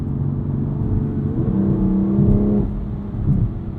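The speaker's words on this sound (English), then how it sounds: "Those turbos kick in and you get this huge shove into your backside." Turbocharged engine of a 2021 BMW M2 Competition with a dual-clutch transmission accelerating, heard from inside the cabin as a steady, loud drone whose pitch climbs and holds before easing off near the end.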